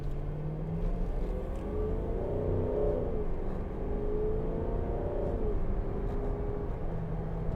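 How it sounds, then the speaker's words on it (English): A 2012 Range Rover 4.4 TD V8 diesel engine revs up under acceleration in sport mode, its deep rumbling drone rising and falling in pitch over several seconds, heard steadily without talk. "that sounds pretty good, doesn't it, for a diesel engine?"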